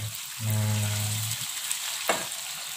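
Chicken liver and gizzards stir-frying with rica spices make a steady sizzle, broken by a loud stirring scrape and a sharp clatter near the end, close to the pan with no talking.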